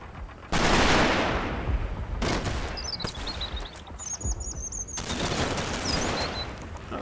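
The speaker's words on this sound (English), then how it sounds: "looks like a machine gun itself is shooting there" Rapid bursts of machine gun fire and scattered gunshots crackle loudly in the Combat Mission Fortress Italy war game, with bird chirps twittering between the volleys.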